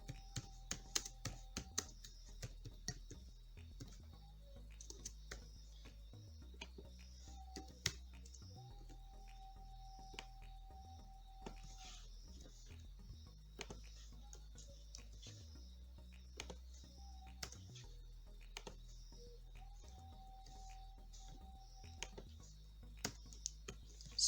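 Keystrokes on a computer keyboard while entering text into a Bootstrap web page layout, a fairly steady patter of soft clicks in short bursts with brief pauses, quiet and close, no one talking.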